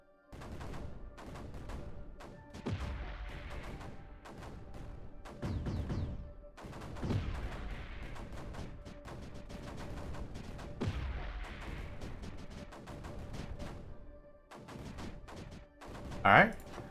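Cannons fire repeatedly in the strategy game Creeper World 4, a steady barrage of overlapping booms and crackling bursts with a sharper burst near the end.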